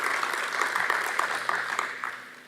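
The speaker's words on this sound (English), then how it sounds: "a round of applause to yourself who are still" An indoor conference audience applauds, a dense patter of many hands clapping at moderate volume that gradually fades out.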